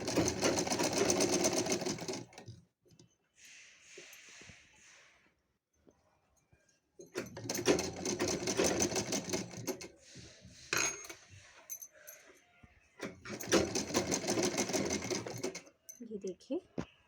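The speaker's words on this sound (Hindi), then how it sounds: "बट इस वाले नेट फैब्रिक में मैं यहाँ पर स्टिचिंग ले रही हूँ।" Sewing machine stitching the neckline of a net fabric party-wear gown, running in three long, loud, close bursts separated by quiet pauses, with faint handling clatter and soft talk in the gaps.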